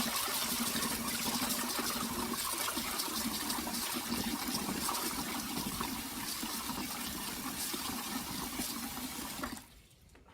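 Water pours steadily into a kitchen bowl for soaking fruit against fruit flies, a continuous splashing stream that stops abruptly near the end.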